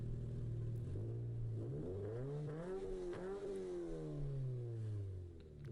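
A car with a newly installed aftermarket exhaust revs loudly several times, the engine note climbing and falling in rising and dropping sweeps, close by and with no one talking.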